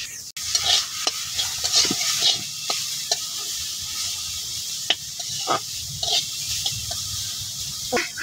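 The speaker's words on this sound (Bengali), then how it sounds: "ধনিয়া পাতা দিয়ে ভাজা হয়ে গেছে গা, ভাজা ভাজা করে নিচ্ছি" Coriander leaves frying in a pan give a steady close sizzle and hiss, broken by repeated scraping stirs of a utensil.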